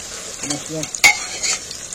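Onions frying in a pan and being turned with a utensil: a steady hiss with a few scraping strokes and one sharp metallic knock midway, close up, without any voices.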